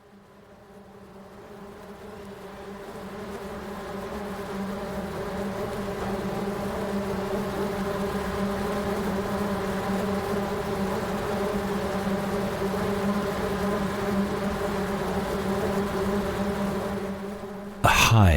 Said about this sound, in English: A hive of the sugarbag bee, endemic to northeastern Australia.